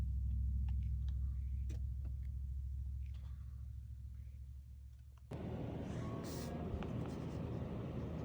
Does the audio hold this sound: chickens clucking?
no